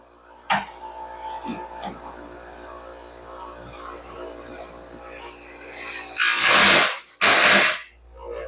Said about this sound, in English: So it's grinding way up into here.